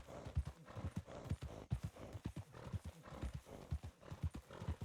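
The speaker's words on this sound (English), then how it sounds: "you being a vocal horse has been a blessing" Horse in the Red Dead Redemption video game, hooves clip-clopping in a steady, uneven gait close by, with a neigh breaking through the footfalls.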